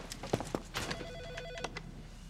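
A telephone rings in a tense thriller scene, short bright ringing bursts repeating over a quiet background.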